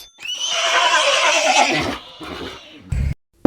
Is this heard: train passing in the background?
no